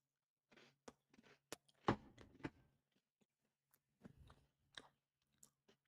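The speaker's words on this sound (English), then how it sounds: "Apologies for chewing on stream" Biscuits being chewed close to the microphone, giving a run of sharp crunchy bites and wet chewing bursts separated by short silences, with no speech heard.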